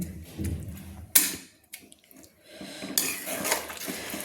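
A spoon scrapes and clinks in a pan of rohu fish curry with kohlrabi and chopped coriander, in short close bursts separated by brief quiet gaps.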